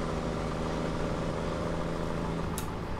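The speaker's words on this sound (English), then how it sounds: "It's just this tractor." A John Deere tractor idles in Farming Simulator 17, giving a steady, unbroken low engine drone with no change in pitch or level and no voices.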